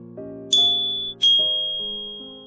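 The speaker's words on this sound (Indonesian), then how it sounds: "Terdengar suara bel pintu berbunyi." A doorbell rings with two bright, ringing chimes about a second apart, each fading slowly over a soft, steady tonal background, with no one speaking.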